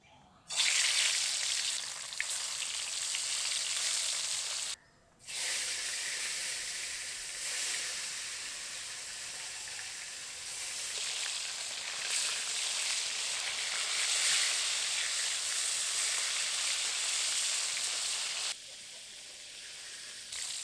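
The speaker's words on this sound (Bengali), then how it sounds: "মাছগুলো ভেজে নিয়েছি, এবার তুলে নেব" Fish fries in mustard oil in a kadai, giving a dense, continuous close sizzle that runs almost throughout, with two brief drops in intensity.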